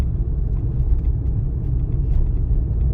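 A car travels along a driving exam route in third gear at about 40 km/h, giving a steady low engine and road rumble heard from inside the cabin with no talking.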